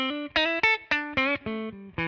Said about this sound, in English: let's turn on the reverb